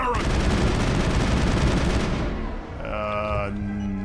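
Rapid automatic gunfire from the video game Mass Effect Andromeda fills most of the clip, loud and dense, then gives way to a brief electronic tone toward the end.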